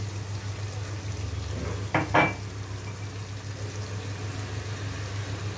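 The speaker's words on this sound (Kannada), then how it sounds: "ಟೊಮೊಟೊ ಚೆನ್ನಾಗಿ ಫ್ರೈ ಆಗಿದೆ" Tomato frying in a pan with spice powders including cumin, coriander and turmeric, a steady low sizzle broken by two brief scraping stirs near the middle, no voices.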